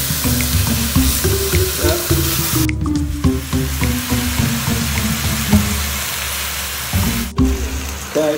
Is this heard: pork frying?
yes